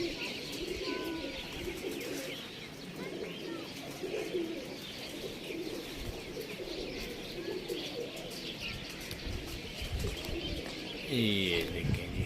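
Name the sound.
pigeons cooing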